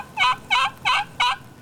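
Wild turkey gobbling, four evenly spaced loud rattling calls in quick succession, close and clear with no other voices.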